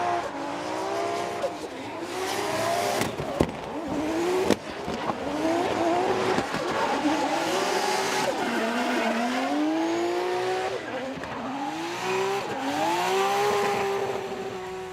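Drift car at Okayama International Circuit under heavy throttle during qualifying, engine note rising and falling in sweeping revs with tire squeal, loud and continuous, with a commentator talking over it.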